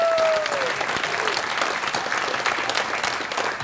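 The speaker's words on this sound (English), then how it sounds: "So I would like to give a little hand of applause for that." At a community awards banquet, a crowd applauds former Carpinterians of the Year in a full, continuous burst of clapping that eases slightly toward the end.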